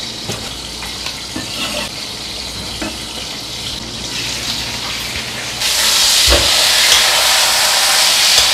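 Cut garlic chives rinsed under a running tap, a steady close hiss of water with small splashes and handling taps, the flow jumping noticeably louder and brighter partway through; no talking.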